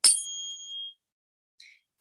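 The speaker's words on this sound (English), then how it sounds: "I have this tuning fork of 528 hertz" A 528 hertz tuning fork is struck once, giving a bright metallic ding that rings clear for under a second before fading, followed by a faint short tap, with no voices.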